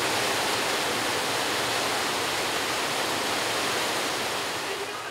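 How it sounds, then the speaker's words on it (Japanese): A waterfall pours steadily into its plunge pool, where a monk swims during a prayer ritual; the dense, close roar holds at constant loudness throughout, with no voices. "向かった先は滝でした"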